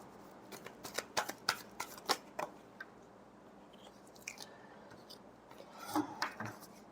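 Tarot cards being shuffled for a weekly Pisces reading, a run of quick riffling snaps and soft papery flicks in uneven bursts, close and fairly quiet with no talking.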